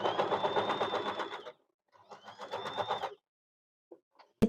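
A Usha Janome sewing machine stitches a buttonhole in two close, steady whirring bursts with a short pause between them, then a few faint clicks and a sharp knock at the end.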